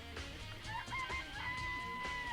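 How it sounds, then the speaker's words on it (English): Chickens clucking in a coop in the video game Danganronpa, a busy layer of fowl calls with a sustained crowing-like tone over steady game background sound. "Remember there were some chickens in the chicken coop."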